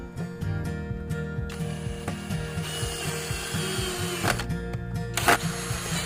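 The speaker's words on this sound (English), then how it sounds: "Pilot holes, glue, screw all around." A screw is driven into a pilot hole in a glued wooden workbench leg. A close power driver makes a rapid rattling ratchet-like whir with repeated short pulses, and no talking.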